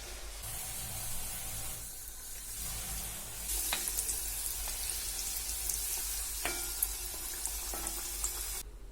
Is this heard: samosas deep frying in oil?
yes